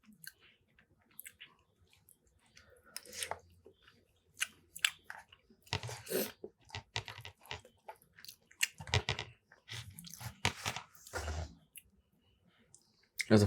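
Close, wet chewing and biting of curry chicken and rice, with irregular clicks, squishes and soft crunches coming in bursts between quiet pauses.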